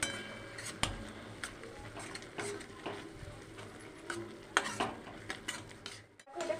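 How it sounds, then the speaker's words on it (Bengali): A spice masala for chicken pasta is stirred and sautéed in a pan, with soft scraping and intermittent clinks of a utensil against the pan, faint and close. "এটাকে আমি সুন্দর করে মশলাটাকে কষিয়ে নেবো যতক্ষণ না এটা দিয়ে তেল ছাড়ছে"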